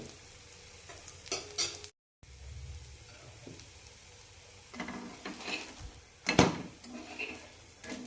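Bun dosa frying in a covered pan, a soft steady sizzle with scattered scrapes and clinks of a spatula turning it, close and quiet, no talking.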